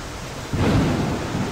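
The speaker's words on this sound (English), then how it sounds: "Come on, Harry, get out of the storm, buddy." A thunderstorm at sea in the Deadliest Catch video game breaks into a sudden deep rumble of thunder over a steady hiss of rain, loud and close, with no voices.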